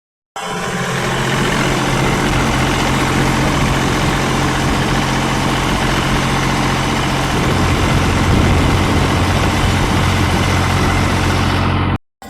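A heavy tractor engine idles continuously at close range, a steady low rumble that holds for the whole stretch before cutting off at the end.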